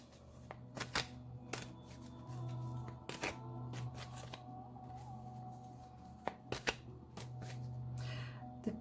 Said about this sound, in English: it's like I'm losing control of how I shuffle the cards